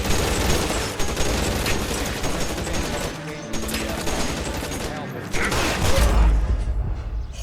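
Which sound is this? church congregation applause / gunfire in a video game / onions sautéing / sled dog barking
gunfire in a video game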